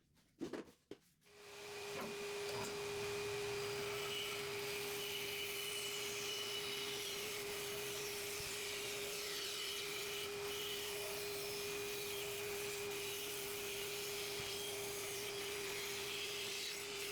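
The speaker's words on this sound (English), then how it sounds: "then went on the bandsaw to cut it out" A bandsaw cutting a circle out of glued-up wood for a handmade stool: a few short knocks, then a loud, steady motor whine with a constant tone and blade hiss that holds for the rest of the clip, with no talking.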